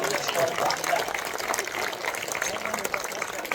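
Steady applause from a Scarborough Renaissance Festival audience at a sword swallower's show, a dense crackling wash of clapping that holds evenly throughout at moderate volume.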